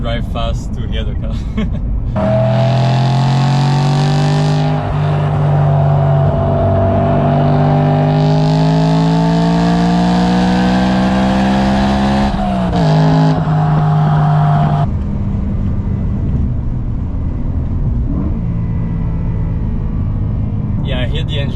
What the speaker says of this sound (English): So now I need to actually drive fast to hear the car.